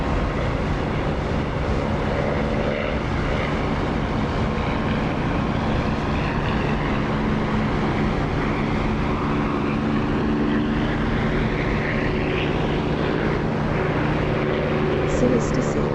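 Aircraft engine in the DCS flight simulator during a takeoff roll with flaps, a loud, continuous propeller drone and roar that rises in pitch toward the end.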